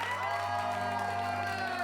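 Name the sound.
audience applause and cheering to vote for a film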